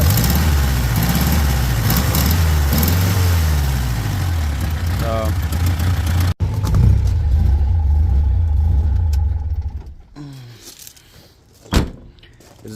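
The carbureted engine of a 1972 Toyota Corolla TE28 with a fuel leak revs loudly, with rising and falling pitch sweeps over a rough idle, then settles lower with a brief blip near the end.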